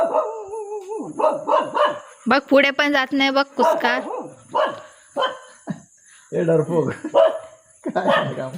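Dogs barking and yipping at a village home: a string of sharp, close barks and whimpers in uneven bursts, mixed with people talking and calling out.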